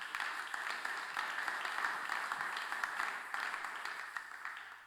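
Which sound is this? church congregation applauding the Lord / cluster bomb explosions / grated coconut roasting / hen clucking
church congregation applauding the Lord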